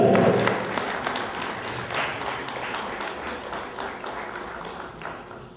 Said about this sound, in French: Il faut l'applaudir très très très très très fort